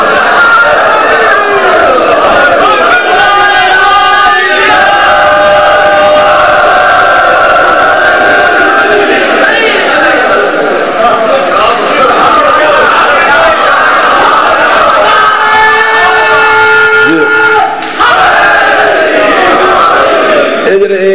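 Crowd at a 12 Rajab religious gathering in Dhudial, 2011, chanting responses to religious slogans, a dense sustained mass of voices filling the full stretch, loud and near, with one brief dip near the end.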